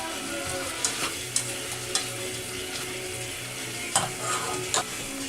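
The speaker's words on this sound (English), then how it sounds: "Give it a quick stir." Karahi mint chicken with lemon juice is stirred in a pan over a steady frying sizzle, with several distinct scraping strokes of the spoon, two of them close together near the end.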